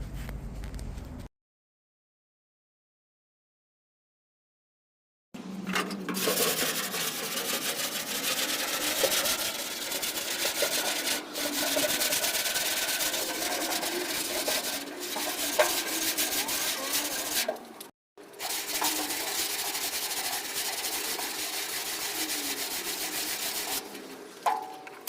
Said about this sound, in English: working on the sanding down